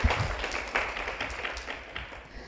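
An audience at a Seoul fashion conference lecture claps to welcome a speaker, with moderate, fairly close applause that starts with a few sharp claps and then tapers gradually.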